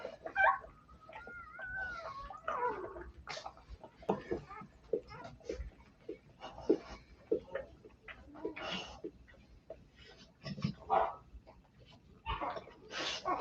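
A newborn puppy whimpers and squeaks in short, faint bursts amid soft rustling and breathing, close by, with quiet voices murmuring at times.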